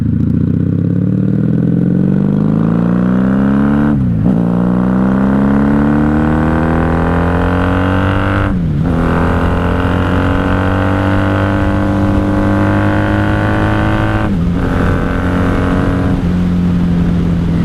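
A 1994 Honda Magna 750 motorcycle accelerating in second gear, engine loud and close, rising steadily in pitch with three brief dips as the throttle eases or gears change, then pulling again.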